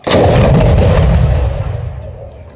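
A single huge cannon blast at a ceremonial firing demonstration, a close deafening boom that rolls out and fades over about two seconds, with no talk.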